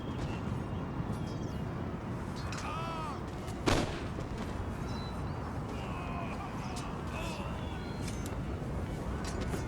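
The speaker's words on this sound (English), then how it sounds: "Artillery!" Artillery booms in the Total War video game over a thick roar of battle, with one prominent cannon blast standing out midway, scattered distant shots and a loud rumbling din throughout.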